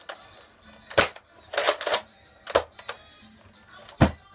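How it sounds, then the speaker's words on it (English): Sling Fire toy blaster firing, a handful of sharp, close clacking shots and mechanical snaps spaced irregularly across a few seconds. "So now, guys, here's the firing test."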